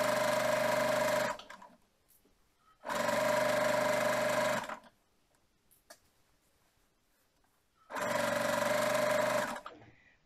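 A sewing machine stitches all around a Halloween craft piece in three loud, close bursts of fast whirring, each a second or two long, separated by quiet pauses with faint clicks.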